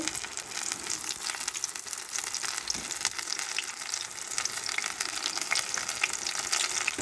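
Ridge gourd fritters (beerakaya bajji) fry in hot oil, giving a close, steady sizzle with fine popping crackles throughout and no talking.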